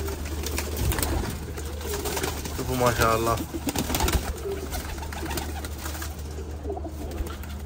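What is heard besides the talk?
pigeons cooing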